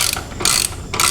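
A ratchet with a Torx bit loosening bolts on a Harley-Davidson Iron 883, giving two or three quick clicking sweeps, close and clear with no talk.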